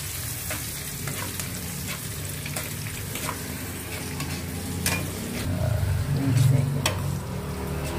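Pancit bihon ingredients fry and get stirred in a pan, a steady sizzle with utensil scrapes that swells louder near the end, while a person talks over the cooking.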